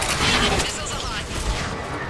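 Missiles streak away in Mass Effect 3 combat: a dense rushing launch whoosh with mechanical clatter, loud at the start and then easing, under a man's short spoken line.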